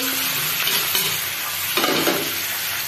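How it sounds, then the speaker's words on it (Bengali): Spring onion stalks fry in a pan with a constant loud sizzle, while a spoon stirring them adds scraping accents. "পেঁয়াজকলিগুলি প্রায় ভাজা হয়ে যাচ্ছে"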